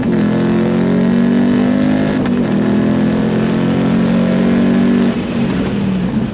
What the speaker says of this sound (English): I'm gonna take off first gear softly, second, and then just go full throttle.